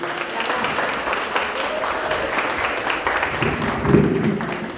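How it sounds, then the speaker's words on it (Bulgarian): Audience applause at a party in Sofia celebrating SNB's 20th anniversary: steady, dense clapping from a crowd lasting the whole stretch at an even level, with a few murmured voices beneath. "Моля вашите аплодисменти."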